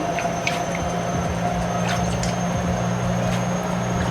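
Braiding hair is pushed down into a basin of water, giving soft squishing, sloshing and dripping sounds in a few short bursts over a steady low hum.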